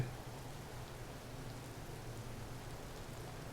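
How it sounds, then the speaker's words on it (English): Steady rain falls in the survival game Empyrion Galactic Survival, a continuous even hiss with a low rumbling undertone that runs unbroken throughout, no voices. "The fog has given way to rain."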